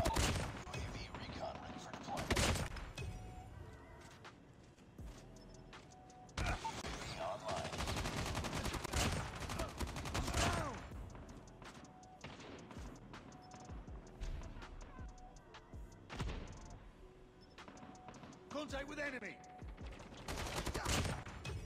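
Rapid bursts of BK57 automatic gunfire in the Call of Duty Mobile video game, repeated volleys and thumps through a busy multiplayer match, fairly faint overall with game noise mixed in.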